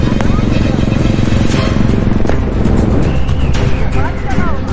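Engines of motorcycles roar past nearby in a busy street, with a continuous rumble and people talking loudly over the traffic.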